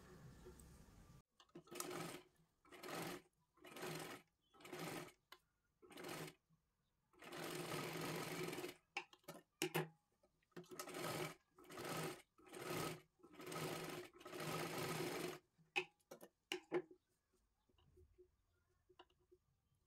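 A sewing machine stitches a katori blouse in repeated bursts of rapid mechanical whirring, separated by short pauses, loud and close, ending with a few brief clicks.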